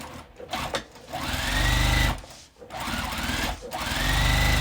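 A sewing machine quilts lines across a fabric bag, its needle whirring steadily in close bursts that pause briefly as the stitching stops and starts.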